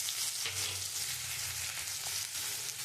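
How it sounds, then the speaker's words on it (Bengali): Garlic paste and whole spices fry in hot oil with a steady, close crackling sizzle that continues evenly throughout, without talk. "আমি এই রসুন বাটাটা দিয়ে দিচ্ছি।"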